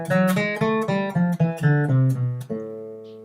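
Guitar plays a melodic minor scale, a run of clear single notes climbing and then descending, each plucked note ringing cleanly, ending on a sustained final tone with no talking.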